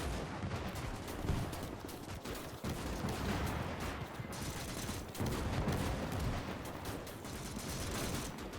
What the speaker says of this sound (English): 50 cal working.